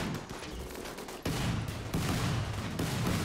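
Gunfire from a battle in the colony-sim game RimWorld, dense overlapping volleys of shots in bursts, loud and close, with sudden jumps in intensity as more weapons join in, and no speech.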